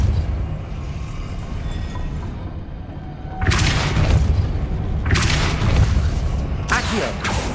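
Depulso repelling spell cast in the Hogwarts Legacy video game: a sudden broadband burst after a low rumbling stretch, followed by two more forceful blasts, loud and close.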